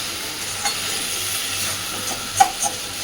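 Kochur loti (taro stolons) sizzle steadily in a pan as the water cooks off, a constant close hiss of frying with a few faint clicks and pops, no voices.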